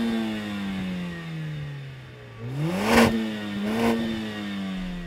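A Mercedes-AMG A45 S engine in sport mode idles steadily, then revs up sharply twice in quick succession, each rise and fall loud and close.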